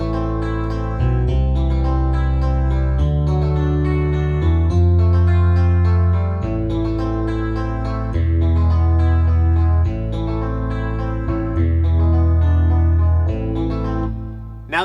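Keyboard playing the familiar introduction of House of the Rising Sun over a built-in rhythm style, sustained chords and arpeggiated notes changing steadily, loud and continuous with no talking.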